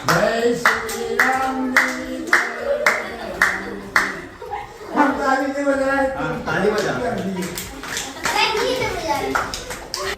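A drunk teacher claps rhythmically in a school classroom while singing a Ram bhajan, sharp regular claps mixed with his chanting voice and children's chatter and laughter nearby.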